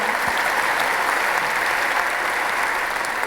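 Large theatre audience in London applauding a musician, a continuous dense wash of clapping at even loudness throughout.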